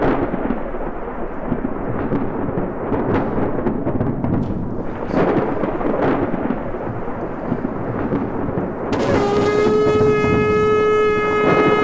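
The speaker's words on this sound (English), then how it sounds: "there were thunders and lightnings, and a thick cloud on the mountain" Heavy thunder rumbling and cracking through steady rain in a dramatized storm on a mountain, loud and continuous, with a sustained horn blast entering near the end.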